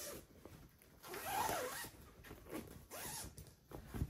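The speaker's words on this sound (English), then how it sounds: "It's got a zipper for the whole way around." A zipper on a large, thick fabric storage bag is drawn open in several quick rasping pulls, close and moderately quiet, with no voices over it.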